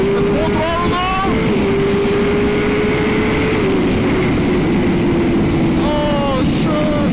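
A Kawasaki ZX-10R motorcycle is held at full throttle, a loud, steady engine tone sustained across the whole stretch with rising whine, close and continuous, with brief voices and wind noise layered over it.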